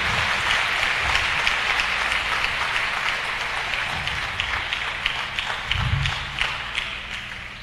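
Church congregation applauding during a French-language sermon, a steady dense wash of many hands clapping that runs the full length at moderate loudness, with a few low thumps and no speech over it.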